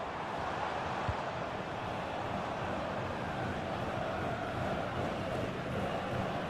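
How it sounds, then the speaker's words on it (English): Steady roar of a football stadium crowd in a cyber football match, continuous broadband noise holding at an even level under the game's ambience with no clear individual voices. "The crowd encouraging him to take it on."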